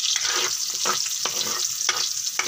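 Garlic and onion frying in oil for spaghetti sauce give a continuous bright sizzle, with a stirring stroke scraping the pan roughly every half second.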